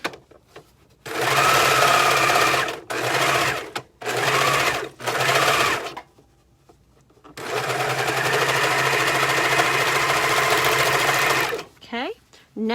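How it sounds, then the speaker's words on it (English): A sewing machine stitches two fabric face mask pieces together, its needle running in four short whirring bursts separated by pauses, then one long steady run, close and clear. "you're going to go ahead and sew these 2 face to face together, just like that"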